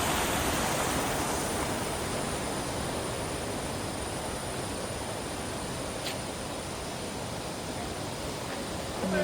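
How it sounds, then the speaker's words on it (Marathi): Water flowing near a waterfall on a forest trail in Goa, a loud, steady, unbroken rushing hiss that fills the whole stretch with no voices. "तर छान वाटतं पाण्याचा आवाज."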